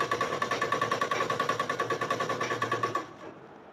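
A sewing machine runs a quick, even stitch along the maroon edge of an umbrella frock. The close mechanical rattle pulses about eight times a second for roughly three seconds, then stops.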